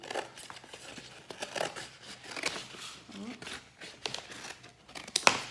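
Scissors snip and crunch through a stiff cardboard egg carton in short irregular cuts, with rustling and handling noises close by.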